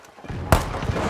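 A barrel explodes with a sudden heavy boom in a shooter video game, followed by a second, softer thud and a rumbling tail over steady game background noise.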